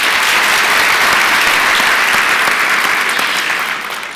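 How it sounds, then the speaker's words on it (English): An audience at a Namibian speaker event applauds its sponsors, a loud, dense and sustained wave of clapping from a large crowd that tapers off slightly at the end. "Let's have a round of applause for our sponsors."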